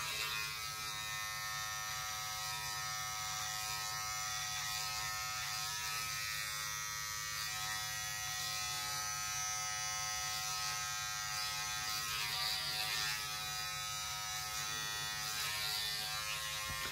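A Manscaped Beard Hedger electric trimmer buzzes steadily and close up while cutting a beard, a continuous whine with small shifts in pitch as it moves across the hair, with no talking.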